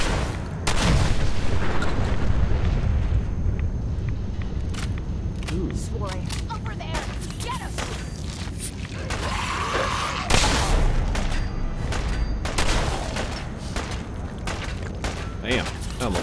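Explosive rounds fired in Fallout 4 Far Harbor, repeated sharp gunshots and booming impacts in rapid irregular bursts, with speech mixed in.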